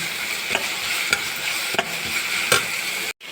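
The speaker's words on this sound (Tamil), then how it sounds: "நல்லா வதக்குங்க." Carrots, beans and other ingredients for rava kichadi are sautéed in a pan, with a loud steady sizzle and about four distinct spoon strokes before a brief drop-out at the end.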